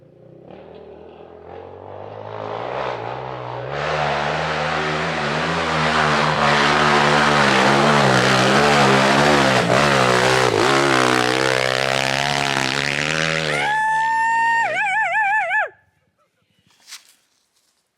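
SSR China pit bike engine revving hard and steadily as it climbs a steep, leaf-covered hill, loud and close for about fifteen seconds, rising in pitch, then cutting off abruptly.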